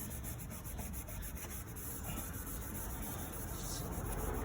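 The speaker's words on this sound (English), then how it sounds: "And scrub the headlight." A car headlight lens is scrubbed during restoration, giving a soft, steady rubbing hiss of close, quiet, continuous strokes with no talking.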